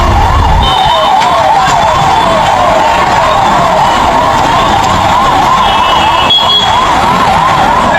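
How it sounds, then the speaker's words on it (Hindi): A wailing ambulance siren sweeps up and down in a fast repeating cycle as the vehicle leaves for Medanta hospital, loud and continuous over road traffic noise. "एम्बुलेंस आप देख रहे हैं जो मेदांता के लिए निकली।"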